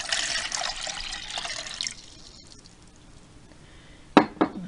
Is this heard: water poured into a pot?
yes